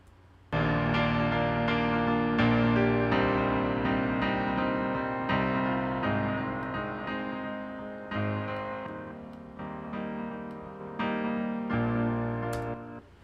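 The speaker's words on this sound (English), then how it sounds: "If we can keep just the piano, which sounds like this." A piano plays a repeating chord riff, steady and full, with sustained low notes under bright higher chords, alone without voices.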